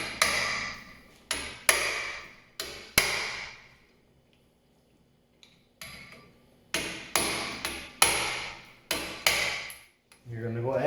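Heavy hammer blows strike a rusted rear brake rotor on a Hyundai Elantra, landing as loud, sharp metallic bangs in uneven bursts of one to three hits, with a quiet pause midway and no talking.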